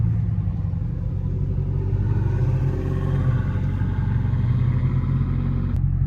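A loud, deep engine rumble drones steadily throughout, a Hellcat muscle car accelerating close by with a low, throaty growl.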